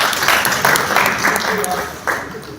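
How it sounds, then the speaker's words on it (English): A church congregation claps for the Lord in a steady burst of applause that swells and eases slightly, with crowd voices mixed in underneath. "Somebody clap for the Lord."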